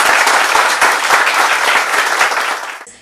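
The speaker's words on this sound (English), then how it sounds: "I think he deserves a huge round of applause." A large audience applauds Dr. Niranjan Hiranandani, Provost of HSNC University, at a UPSC centre inauguration: loud, dense, continuous clapping from many hands that fades out near the end.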